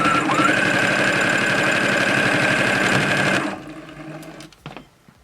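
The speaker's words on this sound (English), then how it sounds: "pushing the treadle and hearing the sound of the machine. Now let's have a look. We're on a zigzag stitch here." A treadle sewing machine running a zigzag stitch, a fast steady mechanical whirr and clatter for about three seconds that stops abruptly, followed by a few light clicks and knocks as it settles.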